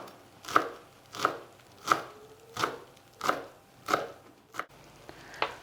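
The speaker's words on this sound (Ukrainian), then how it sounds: "Поки смажиться наша начинка, ріжемо зелень." A knife chops fresh herbs on a cutting board in slow, even strokes, about eight sharp thuds evenly spaced with no talking, while stuffed pepper filling is prepared.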